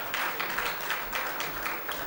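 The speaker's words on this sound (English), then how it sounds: "We'll keep that applause going" Audience applause at a convention valedictory memento presentation, a dense continuous wash of many hands clapping from a crowd in a hall, steady and moderately loud, with no talk over it.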